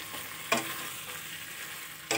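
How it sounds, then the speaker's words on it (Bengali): Spice paste frying in a pan with pointed gourd, potato and prawns, a low continuous sizzle broken by two short scraping strokes of a spoon against the pan. "তো একটুক্ষণ কষালাম"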